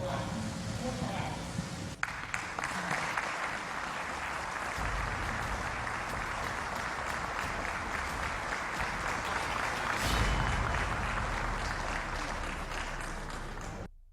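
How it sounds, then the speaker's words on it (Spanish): Members of Peru's Congress applaud in a sustained, dense wave of clapping that fills the chamber for about twelve seconds, briefly swelling near the end before stopping abruptly. "Ante el aplauso de los congresistas"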